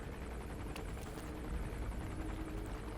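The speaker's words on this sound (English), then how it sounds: "Yeah, I'll deal with the chopper beforehand." Helicopter in a Metal Gear Solid video game flying overhead, a steady rotor chop and engine roar filling the whole stretch at a fairly close, even level, with no talking.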